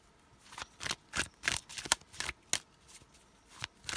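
Tarot cards shuffled by hand in a quiet room, a run of about a dozen crisp riffling bursts in uneven rhythm, close and clear, with no talking.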